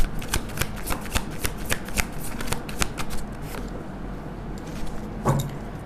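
A deck of tarot cards being shuffled up close, with repeated quick riffling flicks in a steady rhythm, easing off and then a final snap near the end.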